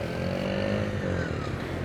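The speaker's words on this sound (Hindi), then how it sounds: "मैंने बाइक जस्ट चालू की और बाइक बाहर निकाली" Kawasaki Ninja 1000 SX motorcycle engine running steadily as the bike is started and ridden out, a faint continuous drone with a slight rising pitch, no talking.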